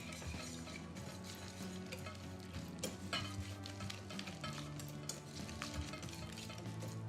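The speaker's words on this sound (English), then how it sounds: "Let's whisk that all together." A parsley and kosher salt mixture is whisked together in a bowl, making a quiet, steady, rapid scratching with faint clicks, and nobody speaks.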